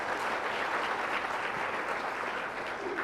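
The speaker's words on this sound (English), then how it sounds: "can I have a round of applause for the whole team?" Steady applause from a conference audience, a dense wash of clapping that holds evenly for a few seconds.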